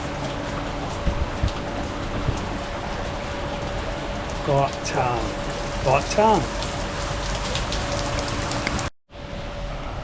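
Rain falls steadily on a pool area in Thailand, an even hiss of drops on water and hard surfaces with a constant tonal hum underneath. A few brief spoken words sit over it before it cuts out near the end.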